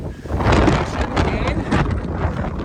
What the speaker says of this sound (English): I'm having to scream over the sound of the wind.